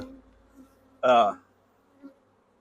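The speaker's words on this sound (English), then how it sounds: "we're not going to let the bees fly in and out of this top box" Honey bees hum in a brief burst close by at a hive, swelling loudly for a moment before fading into a quiet background with a faint later buzz.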